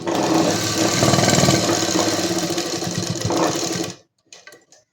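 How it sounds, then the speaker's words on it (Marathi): A sewing machine stitches along the edge of a kurti collar lining in a steady close whir for about four seconds, then stops, leaving faint handling sounds. "तर इथे आता आपण ही कडेने टीप देऊन घ्यायची आहे."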